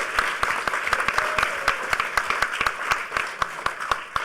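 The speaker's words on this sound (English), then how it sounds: "a second round of applause because this gigantic panel made it in under 45 minutes" An audience at The Next HOPE hacker conference in 2010 claps for a hackerspaces panel: a moderate, fairly sparse round of distinct individual claps with no one talking.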